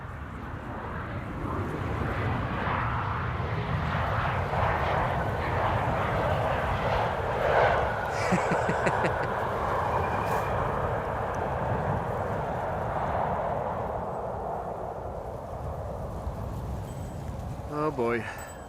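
Jet airliners departing from runway 09 at Amsterdam Schiphol Airport, heard as a steady, distant roar of engines that swells gently and holds throughout, with faint talk in the background.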